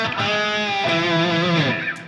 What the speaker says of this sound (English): I'm using a medium room style reverb